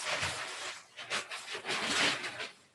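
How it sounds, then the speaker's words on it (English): Sheet of paper that had been covering a window slides and crashes down indoors, a short cluster of crinkling, rustling bursts over a few seconds, fairly faint and close, with no talk. "That's the sound of paper crashing."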